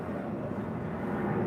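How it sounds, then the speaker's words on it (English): A jet aircraft passes directly overhead shortly after takeoff near Rhodes, Greece, heard as a steady, fairly faint broadband roar that holds evenly throughout, with no talk over it. "there's a jet just now directly overhead"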